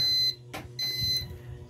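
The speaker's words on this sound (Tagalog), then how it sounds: "Tapos ito yung ating alarm." A steady high-pitched electronic alarm tone sounds from a wye-delta motor control panel, cuts off briefly, then resumes, with a low hum and some handling noise beneath.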